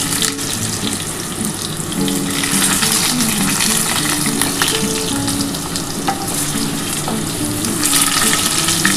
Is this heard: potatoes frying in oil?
yes